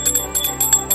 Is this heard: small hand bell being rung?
yes